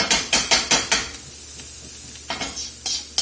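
Diced onion stirred and scraped across the bottom of a hot pan where steak was seared for steak au poivre, with a rapid run of scraping strokes at first, then a steady sizzle and a few more scrapes.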